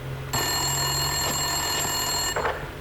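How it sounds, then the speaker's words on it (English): A desk telephone in a police station rings in the Max Payne 2 video game, one long electronic ring lasting about two seconds, loud and clear, followed by a brief softer tail. "Winterson's phone was ringing."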